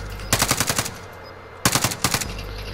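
Enemy gunfire in a shooting video game: two rapid automatic bursts of several sharp shots each, loud and close, separated by a short pause.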